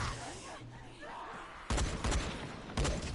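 A semi-auto combat shotgun fires in the zombie game Dying Light: three loud, close blasts at irregular intervals, each ringing out briefly, after a stretch of quieter background sound.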